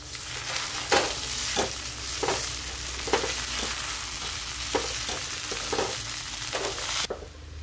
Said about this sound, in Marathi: आता आपल्याला भिजवलेला साबुदाणा याच्यामध्ये टाकून घ्यायचा आहे. आता आपण याला मिक्स करून घेऊ.